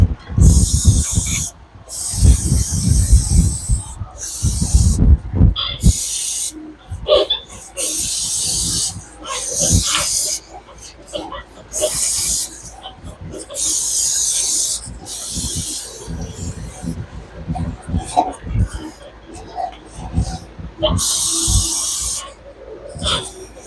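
Bursts of compressed spray hiss through a straw nozzle, blasting debris loose from the brakes of a 2012 Ram 2500 truck, with repeated loud blasts separated by short pauses amid scraping and handling noises.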